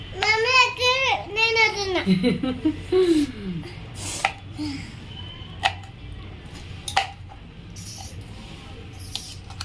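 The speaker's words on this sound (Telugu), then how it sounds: "డాడీ లక్కి మీ డాడీ టమాటా ఎలా కట్ చేస్తున్నాడు" A knife cuts through tomatoes on a board with several sharp, separate chops that follow a voice and talking near the start.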